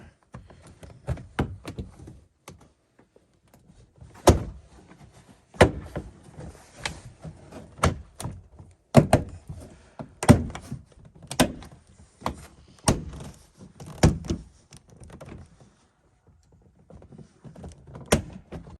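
Series of clicks, snaps and clunks as a trim panel is pried off a Dodge truck door, irregular sharp pops and knocks close up with brief pauses between them.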